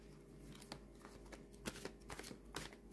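Overhand shuffling of a tarot card deck, soft irregular papery slaps and flutters in quick bursts, close and quiet.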